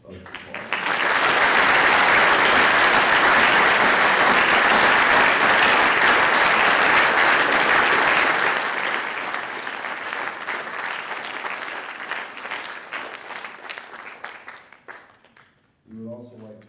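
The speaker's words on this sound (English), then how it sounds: "Please join me in another round of applause." Sustained applause from an audience at a 2025 Veterans Day program in honour of veterans, loud and dense at first, then thinning and fading, with a voice starting to speak at the end.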